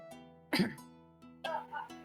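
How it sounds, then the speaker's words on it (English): A sharp cough bursts out near the start, followed by a second rougher cough or throat-clear, with a steady hum underneath. "Sorry, I had a cough."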